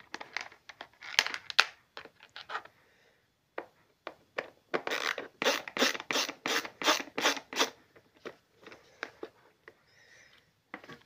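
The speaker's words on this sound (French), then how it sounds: "je vais dévisser les deux vis" A screwdriver works the screws out of a Senseo coffee machine during a full overhaul, giving close, dry rasping and ratcheting scrapes in short irregular bursts, then a quick run of rhythmic grinding strokes.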